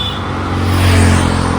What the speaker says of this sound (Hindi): लेकिन ट्रैफिक इस रोड पे बहुत ज़्यादा है।